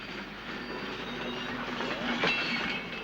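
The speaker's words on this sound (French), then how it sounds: "On pousse les wagons en haut de la bosse, et souvent à raison de 6 par minute." Freight wagons roll over a rail yard hump during sorting, giving a steady rumbling train noise with faint clicking and a brief squeal near the end, continuous and moderately distant.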